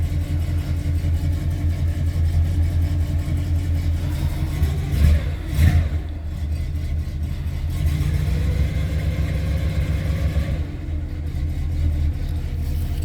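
A 1968 Oldsmobile Delmont 88 V8 runs close by, idling with a deep rumble and then revving up a couple of times before settling back, warming up after a restoration.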